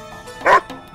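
A single short dog bark, a bright yelp-like bow-wow, rings out loud and close for a fraction of a second amid otherwise quiet background, in a children's story.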